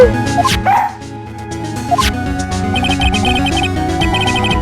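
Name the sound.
dog barking in Phoenix Wright: Ace Attorney video game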